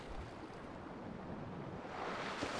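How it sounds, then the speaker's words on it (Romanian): Ocean surf washes steadily in GTA V Online, a faint, continuous rushing wash of waves with wind-like noise and a slight swell toward the end, no voices. "Ce valuri sunt"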